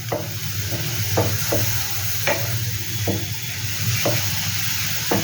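A steady sizzle of a beetroot and poppy seed mixture frying in a pan, with regular scraping clicks of a spatula stirring it every second or so.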